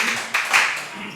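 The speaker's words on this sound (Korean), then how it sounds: "격려의 박수입니다." A church congregation claps in encouragement during a Korean worship service, with a short burst of dense applause swelling briefly, with a faint voice mixed in.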